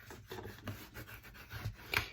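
Varnish is rubbed onto a paper page of a mini scrapbook album, making quiet scratchy brushing strokes in an uneven rhythm, close and faint.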